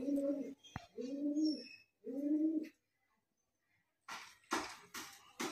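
Murshidabadi Giribaz pigeons coo close by in three rounded, rolling calls at a steady pace, then a pause followed by some sharper rustling and flapping-like noises.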